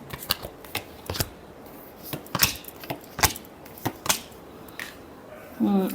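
A tarot deck is shuffled up close in a run of crisp, uneven card flicks and snaps, a few louder slaps standing out, with a brief low hum near the end.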